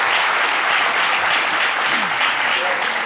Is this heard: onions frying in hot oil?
no